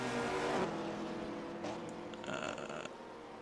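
Engine drone of a race car from a 1978 USAC racing game, steady with a shifting pitch and a brief whine near the end, moderately loud and continuous with no voice.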